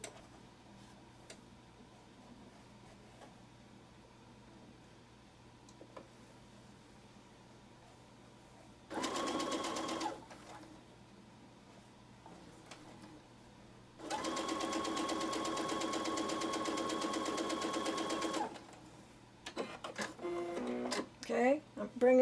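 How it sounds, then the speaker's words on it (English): A sewing machine stitches a Dresden Plate quilt block in two steady whirring runs, one short and one longer, close and fairly loud against a quiet room. "And again, flipping it over to sew."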